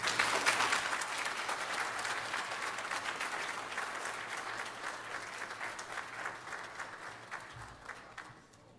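Applause from a gathered crowd after the president's Haitian independence anniversary address, a fairly faint, sustained patter of many hands that slowly thins and fades toward the end.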